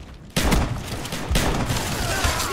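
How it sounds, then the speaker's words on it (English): Shotgun blasts in the video game Call of Duty Black Ops, two sharp booming shots about a second apart over dense, noisy game action, loud and close. "That shotgun hit was up close."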